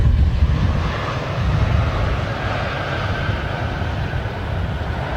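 A Saudi Arabian Airlines Boeing 787-10 Dreamliner approaches Heathrow, its engines a steady broad roar with wind rumble on the microphone, loud and continuous throughout.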